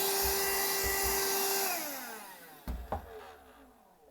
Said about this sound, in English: I'm just gonna go ahead and vacuum my vacuum now